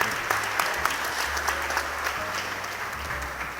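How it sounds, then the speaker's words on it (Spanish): Audience applause at a rice industry talk in a lecture hall, steady dense clapping sustained throughout at moderate distance, with no speech over it. "el aplauso."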